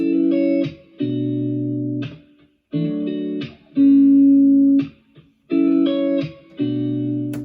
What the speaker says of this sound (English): So I have this guitar sample, it sounds like this.